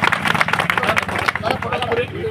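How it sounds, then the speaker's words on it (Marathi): Crowd clapping to welcome Rotary members at a relief distribution event for flood-affected families in Satgaon Dongri, dense applause with babble and a voice speaking over it. "जोरात सर्व रोटेरियनचं टाळ्या वाजवून स्वागत करायचं आहे"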